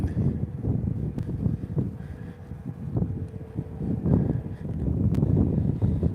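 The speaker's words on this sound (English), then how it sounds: "Still got that freezing cold wind." Freezing cold wind outdoors, rumbling steadily as low buffeting gusts against a microphone, with a loud constant roar that swells slightly toward the end.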